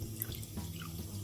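Water trickles and splashes briefly as it is poured into a cocktail glass, a short close pour with soft dripping.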